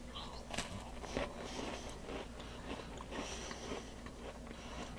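Stale cracker spread with sunflower butter from an MRE being bitten and chewed up close, with soft crunches and wet mouth sounds in an uneven rhythm, no talking.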